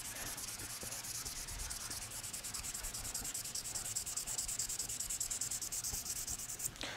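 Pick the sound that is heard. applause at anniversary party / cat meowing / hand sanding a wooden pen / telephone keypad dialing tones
hand sanding a wooden pen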